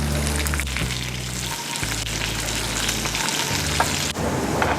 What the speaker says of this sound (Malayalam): എണ്ണ ചൂടായതിന് ശേഷം നമുക്ക് അതിലേക്ക് കുറച്ച് കടുക് കുറച്ച് റെഡ് ചില്ലി ചെറിയുള്ളി അരിഞ്ഞത് കുറച്ച് കറിവേപ്പില കൊടുക്കും